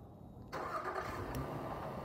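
A car engine starts by remote start on a 6-speed automatic vehicle with 280 horsepower, catching abruptly after a quiet pause and settling into a steady, close idle.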